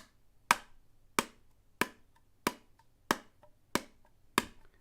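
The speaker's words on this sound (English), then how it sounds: "This is the kick." A kick drum sample with its low frequencies cut away strikes seven times in a steady, evenly spaced rhythm, each hit a sharp, clicky thump that decays quickly. The hits are fairly quiet and heard alone with no other sound.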